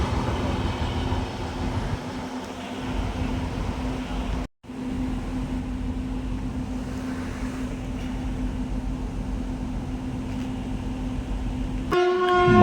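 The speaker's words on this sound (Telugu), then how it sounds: "మన ట్రైన్ వచ్చేసింది చూడండి. అటు నుంచి హార్న్ కొడుతుంది కదా, వచ్చే ట్రైన్ మనదే." The Palnadu Express approaches Sanathnagar station in Hyderabad with a steady, loud rolling rumble throughout, then sounds its horn in a short, bright blast near the end.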